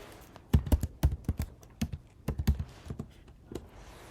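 Keys tapped on a computer keyboard while entering a file name for a Python steganography script, a close burst of irregular clicks with short pauses between runs, no voice.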